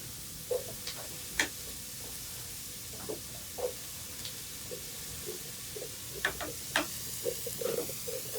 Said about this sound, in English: Now that that's sauteing, we're going to add in our apples.